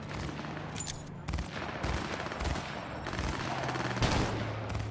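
Gunfire in the video game Cyberpunk 2077 crackles in rapid, dense bursts of shots that repeat throughout, loud and close against a busy background.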